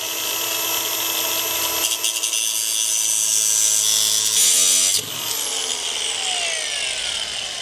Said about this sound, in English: So if we're going to do that with a grinder, and it's a little bit more tedious, steady your hand